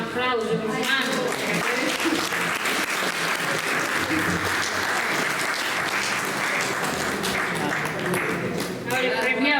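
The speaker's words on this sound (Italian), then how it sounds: "un applauso, un mano" A poetry contest audience gives Francesco steady, dense applause, a continuous mid-distance patter of many hands lasting several seconds, with voices briefly audible at the start and end.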